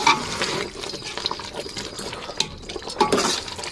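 Water pours into a pot of chicken curry cooking on the stove, a splashing, gurgling fill with small clinks of the pot, fairly close and with no talking.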